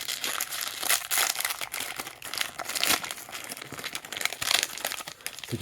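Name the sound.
ripping open 2023 Donruss football card value packs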